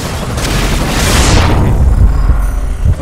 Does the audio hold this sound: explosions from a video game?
yes